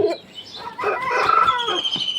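An aseel rooster of a home breed clucks and calls in a short run of close, fairly loud bursts with a brief pause near the start.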